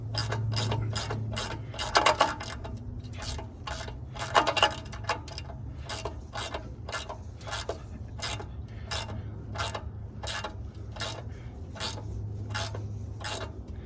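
A ratchet wrench tightens a bolt on the lower roller of a rubber track excavator, clicking in rapid bursts of repeated pawl ticks with brief pauses. It is close and clear, with no talk.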